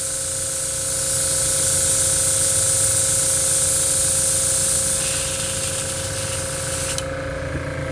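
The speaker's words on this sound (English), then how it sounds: "I'll get some of this wax and grease remover just to finish clearing out the gun." Spray gun blowing wax and grease remover through to clean it out, a steady loud hiss lasting most of the clip before easing off near the end.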